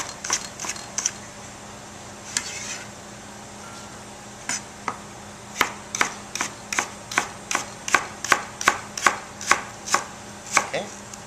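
A knife chops celery at an angle on a cutting board: a short burst of cuts, a pause, then a steady run of about fifteen crisp, evenly spaced thunks, close and clear with no talking.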